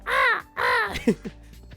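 Eagle call in the role-playing game Trails of Cold Steel III, two harsh drawn-out caws followed by shorter clipped cries, loud and close with nothing else heard.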